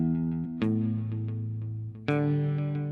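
A used 1990s Mexican-made Fender electric guitar rings out through distortion and effects, with two loud strummed chords sustaining between scattered lighter picked notes, close and alone.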